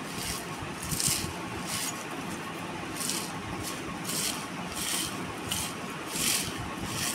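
Crispy fried neem leaves crushed by hand for an aloo neem mash make a dry, rhythmic crackling crunch, about one gritty burst each second, close and fairly quiet.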